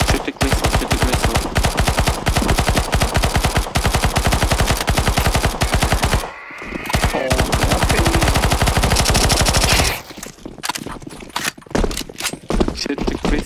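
Rapid automatic gunfire in the CS2 Zombie Escape game shoots at a crystal: dense, continuous bursts for about ten seconds with a brief pause, then sparser shots and quieter game noise.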